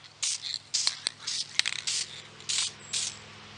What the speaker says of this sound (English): And then just some aerosol lacquer.